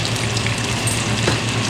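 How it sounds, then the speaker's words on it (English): Whole fish frying in a pot of oil, a dense, continuous crackling sizzle heard close up for a moment, with no talk. "See them in there frying?"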